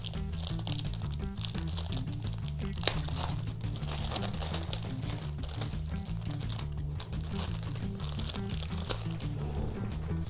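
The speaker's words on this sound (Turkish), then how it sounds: "Kumandayı şöyle bir poşetinden çıkartalım." A plastic bag crinkles and rustles continuously as the remote for a Lenovo Cleaner E1 robot vacuum is pulled out of it, close and fairly quiet over a low steady background hum.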